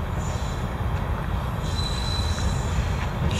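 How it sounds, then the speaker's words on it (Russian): A train rumbles steadily past at moderate distance, with low rolling noise and faint high wheel squeals, no voices. "впереди что-то шумит, но это не трамвай. Это, судя по звуку, поезд."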